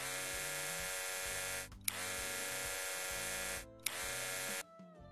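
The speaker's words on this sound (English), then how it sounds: "Apply trimmer." An electric trimmer in a tattoo removal game hums with a steady, quiet, tonal buzz. It cuts out twice with a small click each time, then restarts and finally stops.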